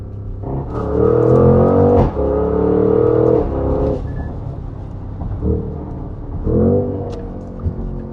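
Porsche Cayenne GTS SUV engine heard from inside while driving slowly, with deep rumbling pulls that rise in pitch, ease off between gear changes, then build again.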